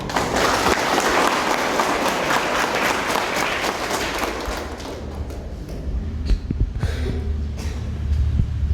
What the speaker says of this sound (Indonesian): setelah kita berikan tepuk tangan kepada Gubernur